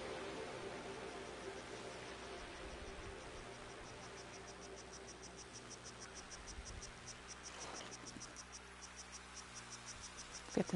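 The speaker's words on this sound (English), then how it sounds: "Cicada." Forest insects, named as cicadas, keep up a faint, steady high buzzing along an east forest path, with a few soft rustles partway through.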